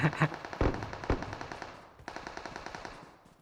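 Rapid gunfire in a battle royale video game: a dense burst of loud automatic shots up front, then a fading rattle of quicker, lighter shots trailing off, with a faint voice underneath.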